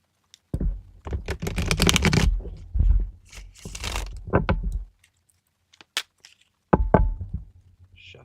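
A Crystal Visions tarot card deck is shuffled in a run of dense, papery riffling and slapping bursts for about four seconds, then a pause with a couple of faint taps and a shorter burst of shuffling near the end.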